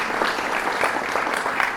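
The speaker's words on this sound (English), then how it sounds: "Really a round of applause for them." Audience applause at a ceremony honoring National Guard service members, a steady and fairly loud wash of many hands clapping together throughout.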